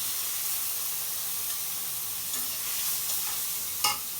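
Onion paste with turmeric and chili frying in a pan, a soft continuous sizzle with a scrape of stirring near the end, quiet and close.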